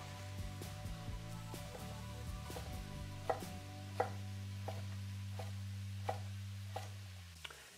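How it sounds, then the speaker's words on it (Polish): A knife dices carrots on a cutting board in a series of sharp, irregular taps over a low humming drone that cuts off partway through. "Kroję również w kostkę."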